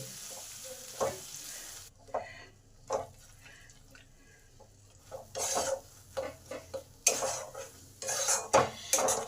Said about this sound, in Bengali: এই পেস্টটাকে কন্টিনিউ নেড়ে যেতে হবে